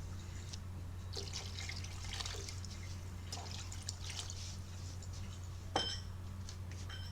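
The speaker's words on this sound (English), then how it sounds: "Add 2000 milliliters of water." Water is poured into a pot for a Cantonese pork spleen soup, making a quiet, uneven splashing and trickling with a few brief louder bursts over a low background hum.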